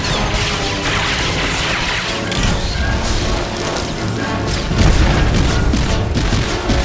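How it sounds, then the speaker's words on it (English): A dense barrage of missile blasts and booms rolls on without pause in a Star Wars: The Old Republic operation battle against droids and a turret, loud and continuous with a heavier burst near the end. "And with one last barrage of missiles"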